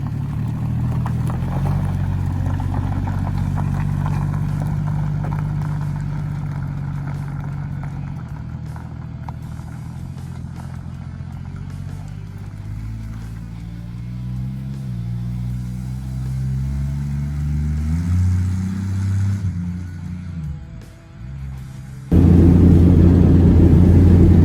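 A 1966 Ford Mustang with a swapped-in 351 Windsor V8 rumbles down the block, its low engine note rising and falling as it pulls away and slows, then comes back louder near the end.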